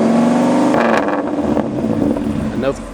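A Dodge T-Rex's V10 engine rumbling close by, a loud throaty drone that swells and eases, with someone talking over it.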